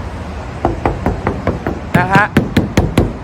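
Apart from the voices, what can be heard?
knocking on the body panel of a Nissan March car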